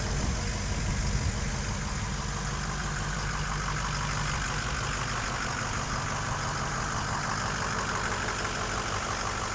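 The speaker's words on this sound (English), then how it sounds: "it's got the 6-liter Powerstroke V8 diesel" A 6-liter Powerstroke V8 diesel in a 2006 Ford F-350 Lariat idles steadily with a low, even knocking rumble, close and constant throughout, with no voices.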